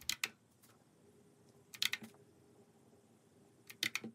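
Keys clack on a mechanical RGB keyboard styled like an old typewriter, in three small clusters of crisp, close keystrokes separated by quiet pauses.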